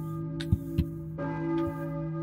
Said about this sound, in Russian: Колокол просто на весь город херачит.